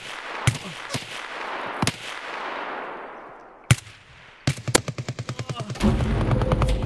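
Gunfire in Escape from Tarkov: sharp shots ring out, then a long reverberating boom dies away, followed by a rapid burst of automatic fire ending in a sustained roar, loud and without talk.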